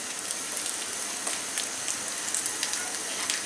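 Chili sizzles in hot oil for dried shrimp balachao, a steady crackling fry with scattered pops, close and moderately loud with no voices.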